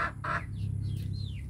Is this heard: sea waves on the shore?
no